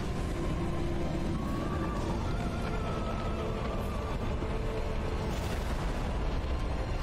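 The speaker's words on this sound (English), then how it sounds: "Holy guacamole, how many bombs were those?" Bombs explode in the video game Dark Souls 3, producing a dense, continuous rumbling barrage of booms and bursts at constant loud level with no pauses.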